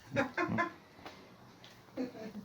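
A household chicken clucking close by, several short bursts of throaty clucks in quick succession, then a pause and another clucking phrase, no talk.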